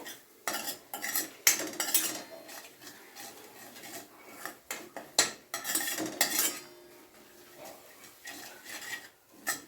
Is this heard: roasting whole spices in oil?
yes